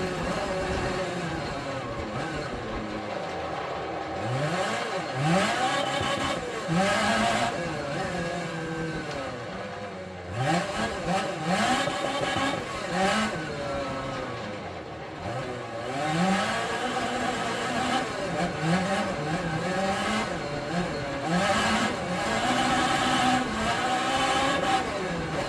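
Rally car engine in Assetto Corsa Rally revs repeatedly through the gears, rising and falling pitch sweeps with brief dips between shifts, loud and steady over the whole run.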